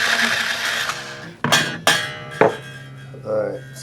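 An Ernie Ball string winder turns a tuning peg while a PRS SE Custom 24 guitar is restrung: a close whirring crank, then three sharp clicking knocks and a brief ringing rattle at the end.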